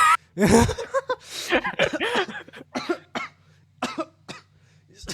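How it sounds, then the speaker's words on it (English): A person in a coughing fit, a rapid run of hoarse coughs and throat-clearing bursts mixed with breathy, chuckling gasps, close and fairly loud, broken by short pauses. "Oh god, you sent me into a coughing fit."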